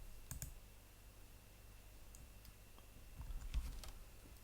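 Computer keyboard keys clicking as Control N is pressed, a few quick isolated taps spaced across a quiet background with one slightly louder press near the end.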